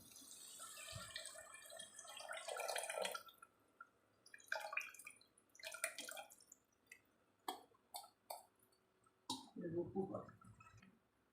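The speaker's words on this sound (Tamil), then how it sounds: "இப்போ இப்போ கரைச்சி வச்ச புளி தண்ணி விட்டுறேன்" Dissolved tamarind water poured into a pan of sautéed onions while cooking pulikkuzhambu, heard as quiet, intermittent splashing and dripping bursts with no talking.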